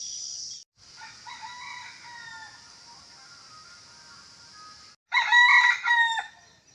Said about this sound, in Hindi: यही कारण है कि मुर्गा बाग देता है।